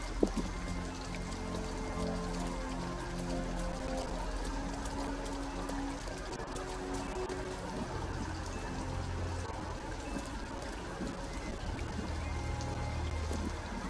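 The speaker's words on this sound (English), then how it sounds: "At least we'd be out of the rain." Steady rain in Detroit: Become Human patters and hisses continuously, with dripping drops on nearby surfaces and faint low rumbling under it, and no speech.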